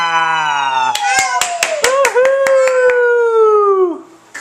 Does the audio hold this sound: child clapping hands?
yes